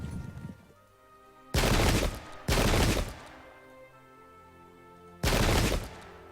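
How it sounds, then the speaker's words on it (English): Three booming cannon blasts from the video game Pike and Shot, in an English Civil War battle, loud and spaced irregularly, each with a short rumbling tail over a quiet background. "Finally, we got a good cannon shot."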